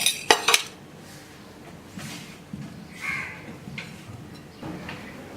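Chopped onion, chilli and coriander being mixed by hand with salt and chilli powder, with a few sharp clinks of a utensil against a dish at the start, then soft scattered rustles and light taps.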